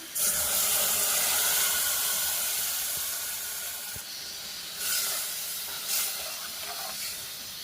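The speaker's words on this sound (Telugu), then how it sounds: "పెరుగు ప్యూరీ వేస్తున్నా." Curd puree sizzles and hisses in a hot pan while aloo dum cooks, a steady loud frying hiss that eases slightly, with brief swells of spitting near the end and no talking.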